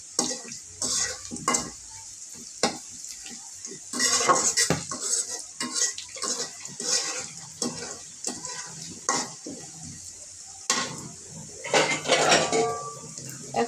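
Onions fry into crisp browned slices in a pan, a sizzling hiss broken by repeated scrapes and metallic clanks of a utensil stirring against the pan in uneven bursts.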